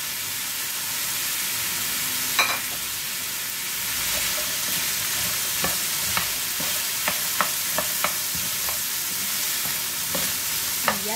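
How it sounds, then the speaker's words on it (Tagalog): String beans (sitaw) sauté in a hot pan, giving a steady, close sizzle punctuated by a series of sharp utensil scrapes and clacks as they are stirred, with no one speaking. "Ihalo-halo lang natin mga lods. Igisa natin siyang saglit."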